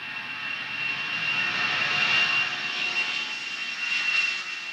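Steady engine roar of a McDonnell Douglas DC-10 airliner as heard from a passenger seat in flight, a continuous broadband whoosh with a faint high whine, no talk.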